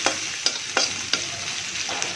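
Chopped onions fry in a pan for a rural Bengali breakfast dish, a steady close sizzle broken by several sharp scraping stirs of a spatula at a loose, irregular rhythm.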